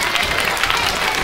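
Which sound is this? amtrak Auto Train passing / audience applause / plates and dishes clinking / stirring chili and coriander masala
audience applause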